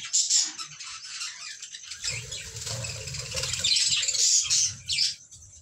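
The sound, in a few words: budgerigar birds chirping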